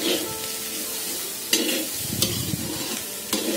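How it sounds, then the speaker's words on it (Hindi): Bitter gourd frying in a kadai in a village kitchen, with a steady sizzle and three sharper scrapes of stirring at intervals over the crackle. No one speaks. "फिर मैं करूंगी इन्हें फ्राई"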